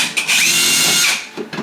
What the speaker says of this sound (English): if you're drilling into a space that's got a cavity behind, it doesn't have a wooden stud